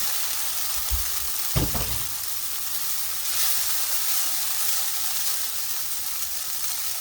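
Noodles are stir-fried with basil and milkweed pods in a pan, giving a steady, close sizzle and hiss with a brief thump of food being tossed in.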